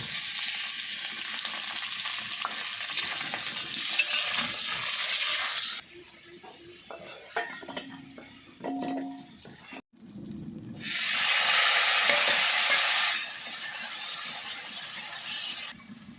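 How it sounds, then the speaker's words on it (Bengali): Potatoes fry in hot oil ahead of a goat meat curry, a steady loud sizzle that drops away for a stretch with clinks and stirring, then surges back strongly and settles again. "আমি সর্বপ্রথমে আলুগুলো ভেজে নেব"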